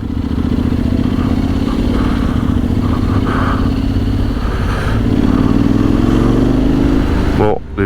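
A custom Honda X-ADV 750 scooter-style motorcycle rides in sport mode, its engine droning steadily and rising gradually in pitch, with wind noise over it and a voice talking throughout.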